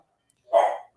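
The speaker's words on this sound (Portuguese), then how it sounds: "os cachorros aqui estão latindo" A single dog bark, one short sharp yap at moderate distance against an otherwise silent background.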